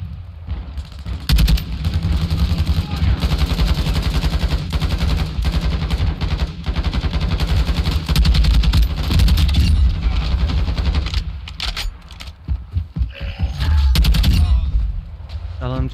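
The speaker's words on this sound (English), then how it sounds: "LMG go brr brr brr brr brr brr brr." Sustained LMG machine gun fire in the video game Call of Duty DMZ, long loud rattling bursts running almost without pause, with short breaks near the end, and talk mixed in.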